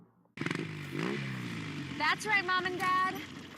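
A cruiser motorcycle fires up abruptly and revs with a rising, throaty engine note. Voices then talk over the continuing engine.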